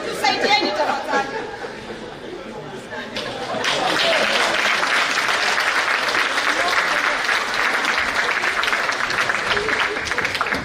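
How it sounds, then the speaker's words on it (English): Large audience applauding at a live event, the clapping swelling to a loud, dense, sustained roar after a few seconds, with crowd chatter mixed throughout. "I think they deserve another huge round of applause"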